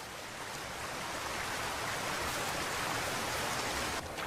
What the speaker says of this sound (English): but now the autumn rains have really picked up